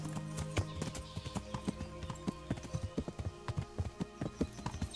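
Horse hooves clip-clopping in the Kingdom Come: Deliverance video game, a steady quick rhythm of sharp close taps at moderate loudness, continuing throughout with no talk over it.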